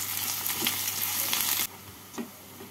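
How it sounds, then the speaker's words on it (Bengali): Chopped onions fry in a pan of hot oil with black cumin and green chilli, a steady broadband sizzle that drops abruptly to a quieter hiss partway through, with a brief stir near the end. "এবার এর মধ্যে দিয়ে দেবো কুচনো পেঁয়াজ। পেঁয়াজগুলোকে লাল করে ভেজে নিচ্ছি।"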